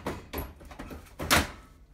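A GE gas range oven door, model JGS963SEK2SS, is lifted off its hinges and slid free, giving a few soft clunks and then a louder scraping metallic clatter near the end, heard close up with no talking.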